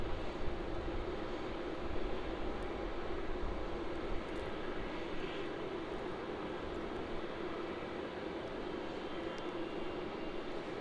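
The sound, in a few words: Rex Boeing 737 aircraft at Melbourne Airport awaiting takeoff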